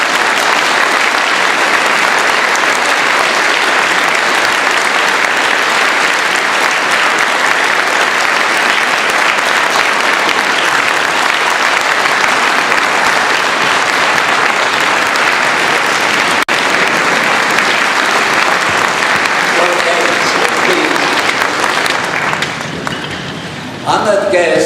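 Loud, sustained applause from an audience welcoming a speaker at a Yom Hashoah Holocaust commemoration, a dense steady roar of clapping that fades near the end.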